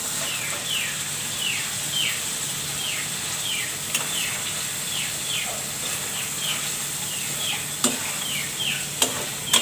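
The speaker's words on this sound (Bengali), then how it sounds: "এখন আমি চিকেনগুলো আমি যে এখানে দই দিয়ে মেখে রেখেছিলাম সেগুলো দিয়ে দিচ্ছি।" Yogurt-marinated chicken for a chicken korma hits a hot pan, giving a steady close sizzle and hiss with repeated scraping stirs and a few sharp clinks, no talk.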